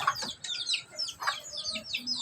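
Several backyard chickens cluck and chirp in a steady run of short, close calls, with no one speaking.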